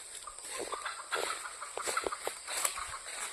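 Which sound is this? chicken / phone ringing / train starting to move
chicken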